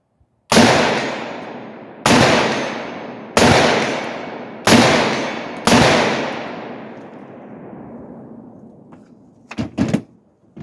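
Five loud, sharp gunshots from a 7.5 inch AR-47 rifle in 7.62x39 crack out about a second apart, each trailing off in echo, followed by a brief clatter of handling noises.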